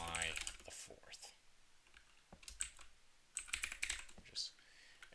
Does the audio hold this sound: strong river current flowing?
no